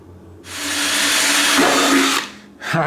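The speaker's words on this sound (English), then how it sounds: "And we'll drill some more holes." A handheld power drill bores a hole for a CB radio mount on a riding mower, spinning up loudly for about two seconds before stopping, then starting again briefly at the end.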